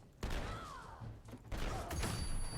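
Enemy gunfire in Fallout 4, a burst of shots and thuds, then more sustained firing filling the second half, loud and close with a bright ringing tone over it.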